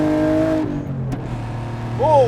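A BMW E46 M3 with a big turbo, around 500 wheel horsepower, pulls under boost, its engine drone dropping as the exhaust gives a sharp crack before a rising whine returns, heard from inside the car.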